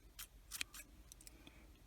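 Scissors snip through green crochet yarn, a few quick close snips in a quiet room.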